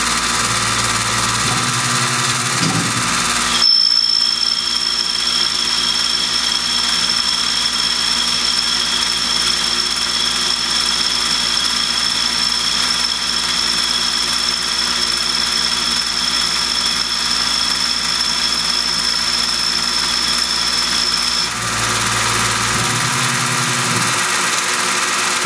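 A Tormach PCNC 1100 Duality lathe makes an outside pass at 3.4 inches per minute: a steady mechanical hum with a thin, high, sustained cutting whine that starts abruptly, holds for about eighteen seconds, then stops as the machine keeps running.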